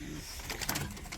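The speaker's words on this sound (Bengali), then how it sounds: "এই যে দেখেন বন্ধুরা, কবুতর কাকে বলে, জোড়ায় জোড়ায় বাচ্চা বন্ধুরা" Racing pigeons coo softly beside their newly hatched chicks in a short, close burst of throaty bird calls.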